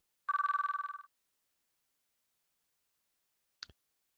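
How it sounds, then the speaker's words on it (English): A telephone rings with a short, rapidly pulsing electronic bell trill that stops abruptly, followed by silence and a faint brief click, with nothing else around it. "But the only thing I heard was the endless ringing sound."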